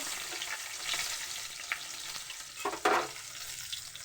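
Bay leaf, dried chili and chopped onions frying in oil for khichuri, a soft steady sizzle broken by a few spoon scrapes and a sharp burst of crackling near the end, with no voices.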